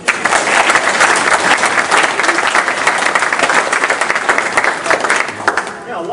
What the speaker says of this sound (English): So I'll just ask for a quick round of applause for them.